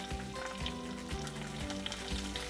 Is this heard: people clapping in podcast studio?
no